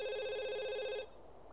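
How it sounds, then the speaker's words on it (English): A telephone rings in The Sims 2 video game, a steady warbling electronic trill lasting about a second before cutting off abruptly, clear and alone. "answer that there phone"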